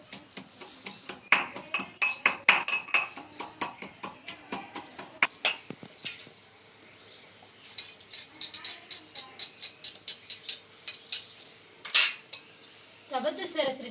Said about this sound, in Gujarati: આ એક મરચું કટ કરીને નાખી દઈશું અને તેની સાથે આપણે થોડું આદું નાખી દઈશું અને આ બધું આપણે સરસ રીતે ખાંડી લઈશું